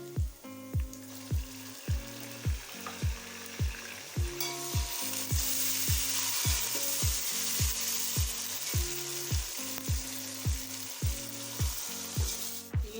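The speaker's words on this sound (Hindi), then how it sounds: "हम इसे फ्राई करेंगे ताकि टमाटर नरम हो जाए" Tomatoes with garlic, ginger and masala frying in a pan for chana pulao, a steady close sizzle overlaid by a regular, rhythmic low thumping and scraping of stirring, about two strokes per second.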